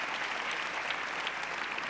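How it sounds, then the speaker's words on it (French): An audience at a ChangeNOW 2024 conference session applauds steadily, a dense, even clapping from a large crowd that holds at the same level throughout. "On l'applaudit."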